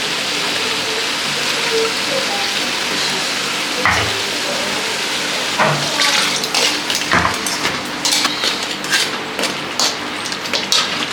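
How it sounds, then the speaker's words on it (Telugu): Masala water is poured into a crab and prawn curry frying in a pan, giving a steady loud sizzle and bubbling with several sharper splashes and stirring clatters partway through. "ఇప్పుడు ఈ మసాలా నీళ్ళు ఉంది కదా ఇదే పోసేస్తే సరిపోతుంది"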